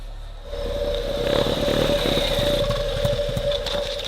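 A motorbike engine from a Hindi-dubbed film scene, starting after a brief quiet moment and then running steadily with a sustained hum and light revving, fairly close and continuous throughout.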